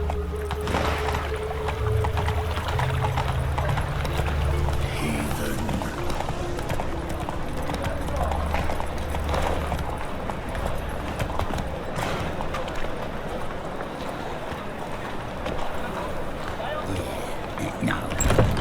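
Roach the horse galloping in The Witcher 3, steady rapid hoofbeats running continuously throughout under ambient game sound and occasional voices.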